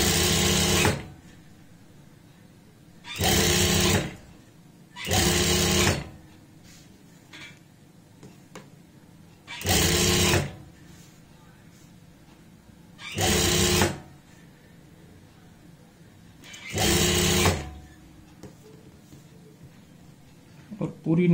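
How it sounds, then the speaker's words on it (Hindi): Domestic sewing machine stitching a strip around a blouse neckline in short bursts, six loud whirring runs separated by quiet pauses, with a voice speaking between them. "बराबर मार्जिन लेते हुए ऐसे ही सिलाई लगाते जाएंगे"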